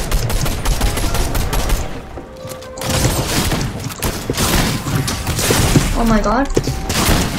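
Evo Chrome shotgun blasts in the video game Fortnite, a few sharp gunfire bursts amid busy game sounds, with a player's voice exclaiming over the action.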